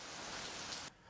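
Steady rain falling in Monrovia, Liberia, during the peak of the rainy season, a dense continuous hiss of drops on surfaces that cuts off abruptly near the end.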